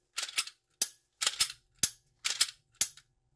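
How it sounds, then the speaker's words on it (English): Dry-fire clicks of a freshly cleaned and oiled handgun, pointed in a safe direction: six sharp, close mechanical snaps and clacks in an irregular sequence, some doubled, with silence between them. "Dry fire in a safe direction."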